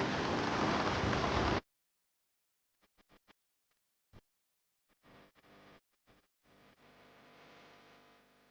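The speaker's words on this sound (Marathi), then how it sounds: "आता पाऊस पण आला मित्रांनो" Steady broadband rain hiss over farmland fills the first second and a half, then stops abruptly; scattered faint taps follow before a softer, continuous rain-like patter returns.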